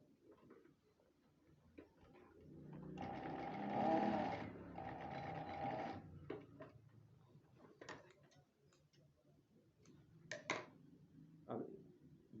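A sewing machine stitches black and white pocket fabric in a steady mid-volume whir for a few seconds, followed by scattered light clicks and taps of handling, close and quiet.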